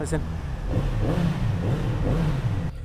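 A 2019 Kawasaki Z900RS Cafe motorcycle engine revs and settles in repeated surges, loud and close, with a steady low rumble underneath.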